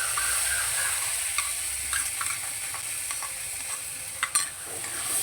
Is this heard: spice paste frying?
yes